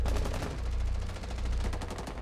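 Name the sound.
gunshots in the video game Rainbow Six Siege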